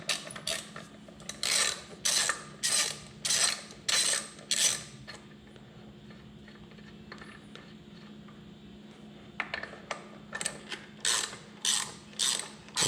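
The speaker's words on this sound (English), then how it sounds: "This is pretty easy to screw in, so hopefully it actually pushes the clutch apart." A clutch spreader tool is screwed into the clutch of a Can-Am Outlander 850 XMR ATV, giving close, rhythmic mechanical clicking and ratcheting in repeated bursts, with a quiet pause midway and no speech.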